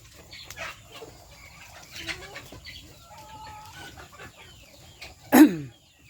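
Chickens cluck softly and intermittently nearby, with a louder squawk near the end and low background rustling.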